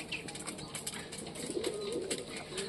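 Caged pigeons and doves coo softly with low, rolling calls, mixed with wing flutters and faint chirps, under a busy background hiss.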